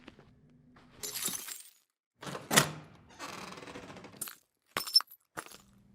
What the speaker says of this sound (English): Go ahead and break the glass on the back door and let us in.